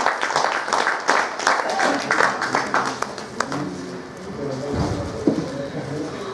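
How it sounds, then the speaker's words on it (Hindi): Scattered applause from a Lions Club stage gathering for a few seconds, fading out as talk and light background noise take over. "जोरदार तालियां"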